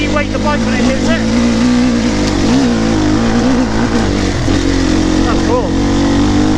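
An enduro motorcycle engine runs at low revs on rough off-road terrain, a loud, steady low drone with small wavering pitch shifts and light rattles throughout, and a voice speaking over it.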